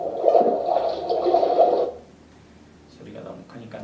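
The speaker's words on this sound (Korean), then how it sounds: "이 소리가 뭔가 좀 정말 물속에서 이런 효과 소리가 나죠" An underwater-style sound effect of waves hitting rocks, a loud muffled gurgling, washing surge for about two seconds that then cuts to quiet, followed by faint talking.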